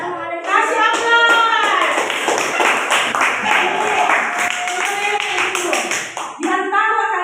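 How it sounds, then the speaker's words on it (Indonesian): Classroom of children clapping in applause, a continuous patter of many hands close by, with voices speaking around it. "Jadi kita kasih aplaus sekali lagi"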